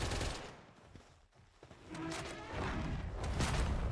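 A chain gun in Palworld fires in rapid bursts, loud and dense, dropping briefly to a lull before resuming with sustained rattling fire.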